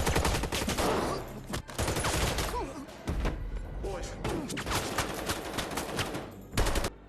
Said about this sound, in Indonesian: Aksi tembak-tembakan pun berlangsung.